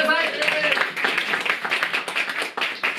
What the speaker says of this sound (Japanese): 拍手してください。